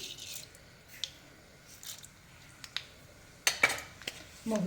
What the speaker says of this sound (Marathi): मोहरी आता आपली छान तडतडली आहे.